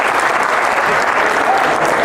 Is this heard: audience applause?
yes